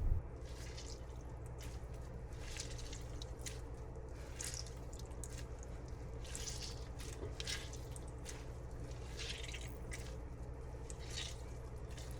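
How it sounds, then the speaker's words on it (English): Blanched chrysanthemum leaves are squeezed by hand to wring out water, giving soft squishing and drips of liquid in repeated bursts over a low steady background, close and quiet, with no talk. "Squeeze out as much water as possible."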